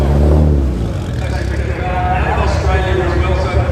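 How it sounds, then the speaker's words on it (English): A Nissan rally car from the classic section of the Otago Rally drives past, its engine roaring loud and close and swelling then easing, while spectators talk over it. "Oh, it's a Nissan."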